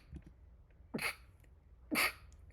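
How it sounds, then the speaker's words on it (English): Two sharp sneezes about a second apart, each a sudden burst of breathy noise against a quiet room. "I'm going to sneeze."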